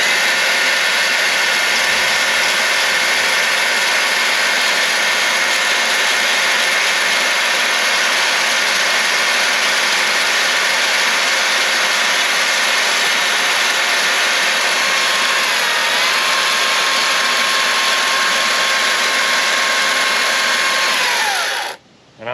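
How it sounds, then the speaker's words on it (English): A small chainsaw runs continuously at a high, steady whine while cutting a half lap timber frame joint, loud and close, with the pitch dipping briefly under load before it stops abruptly. "just use this little chainsaw and go through there"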